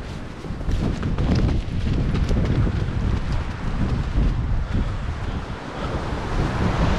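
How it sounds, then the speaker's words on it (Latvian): Sea waves wash steadily against the shore at the Liepāja coastal forts, a broad continuous roar of surf mixed with strong wind buffeting the microphone throughout. "Pasties kāda jūra forša. Viļņi."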